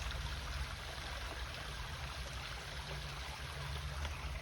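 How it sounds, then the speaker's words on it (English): A small stream trickling steadily and continuously, a soft even wash of running water with no other sounds. "There is a little trickle the whole way up the hill."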